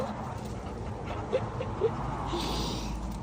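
A dog searching for a lost tennis ball gives a few faint, short whimpers against a steady background of noise, with no clear speech.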